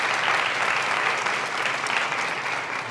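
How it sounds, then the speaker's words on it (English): Applause from an audience at a school staff recognition event, a dense, even wash of many hands clapping at moderate distance, sustained without a break. "Big round of applause for them."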